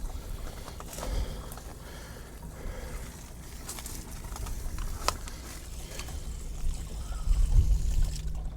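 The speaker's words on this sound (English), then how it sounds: "I leave the tank drain open. I like to let a little of that water come out of the bottom of it there" Water running out of an open tank drain under a camper, a steady pouring trickle throughout with a few scattered clicks and faint bird calls in the background.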